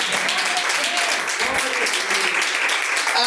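Church congregation applauding together in a steady wash of clapping, with a voice speaking and some tonal sound running underneath.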